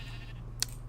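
A sheep from the Ore Sheep mod in a video game gives one short, faint bleat over a steady low background hum.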